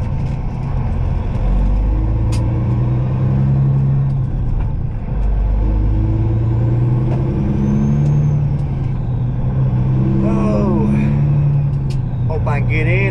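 A Peterbilt truck's engine rumbles loud and close with shifting pitch as it pulls out onto the road, accelerating through gears, while someone talks over the steady drone.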